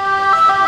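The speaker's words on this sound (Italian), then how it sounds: "Ed ecco l'altro automezzo dei vigili del fuoco, corpo specializzato nucleo artificieri, che in questo momento è arrivato." A fire brigade bomb squad vehicle's siren wails loudly and close at a bomb alert in Naples, its steady two-tone pitch cutting over road noise.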